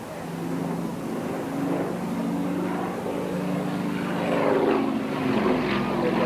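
Yakovlev Yak-52 propeller aircraft performing aerobatics over Cavo, Rio Marina, a droning engine hum that swells and shifts in pitch as it passes, moderately distant, with faint voices nearby.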